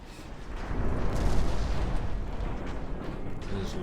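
Naval gunfire in the warship game Ultimate Admiral Dreadnoughts, a rolling wash of booming cannon blasts and rumble that builds and lingers, with scattered sharper pops on top.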